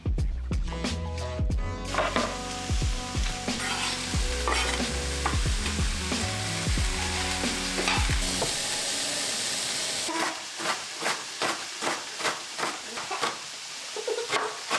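Cubed celery root and vegetables sauté in a pan for a lovage soup, with continuous frying sizzle and frequent utensil scrapes, ending in a run of rhythmic knocking stirs.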